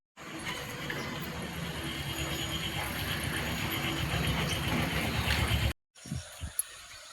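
A vehicle passes close by a rural farm field behind a house, a loud, steady rumbling roar lasting about six seconds before cutting off abruptly, followed by a few faint, quiet sounds.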